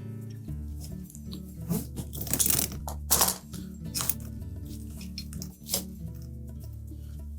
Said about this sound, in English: remove the spring type clamp that secures the drain hose to the check valve.